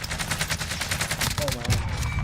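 Rapid gunfire from a Call of Duty Warzone match, a dense run of shots close and loud, with brief pauses and some in-game voice chatter mixed in.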